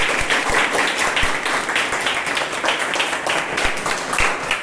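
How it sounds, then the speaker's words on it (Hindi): Audience applause from a room full of people, a thick continuous patter of clapping with a few sharper individual claps standing out, sustained at steady loudness for the whole stretch. "आप लोग जोरदार तालियां"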